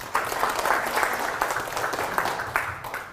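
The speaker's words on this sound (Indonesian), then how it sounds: "Tepuk tangan." A brief burst of audience clapping at a product launch event, moderately loud and fairly even, with a few distinct individual claps standing out from the crowd.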